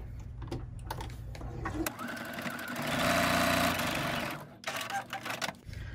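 A sewing machine stitching a quarter-inch seam on a small fabric pouch, a rapid mechanical whir that rises to a steady, louder run in the middle and then stops, with faint handling clicks before and after.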